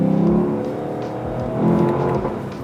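A 2023 Lexus LC 500 V8 accelerates nearby, its engine note climbing with a deep throaty roar, dipping briefly at a gear shift before pulling again, loud and continuous.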